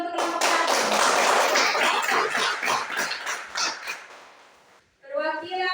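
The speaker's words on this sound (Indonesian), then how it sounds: "Tepuk tangan dulu untuk kelompok" Students in a classroom clap for a presenting group, a close, loud burst of uneven hand claps that thins into scattered claps and stops before a voice speaks.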